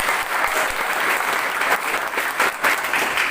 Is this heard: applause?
yes